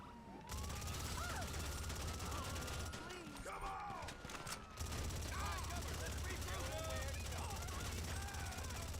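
Gunfire in a Rockstar video game while shooting NPCs: scattered shots crackle over a steady bed of noise, with wailing police sirens rising and falling and a voice talking now and then.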